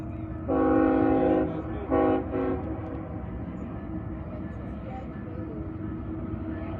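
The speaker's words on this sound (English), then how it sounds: "Train." A train rumbles past at a distance, its horn sounding in two long blasts over steady rolling noise.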